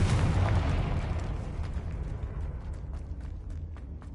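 A Confringo spell explosion in Hogwarts Legacy, a loud rumbling blast that decays over a few seconds, with faint crackling debris ticks near the end.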